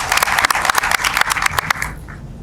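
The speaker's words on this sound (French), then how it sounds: "je vous invite de les applaudir fortement" An audience at a university ceremony in Mali applauds the professors in a loud burst of clapping. The clapping fades out after about two seconds.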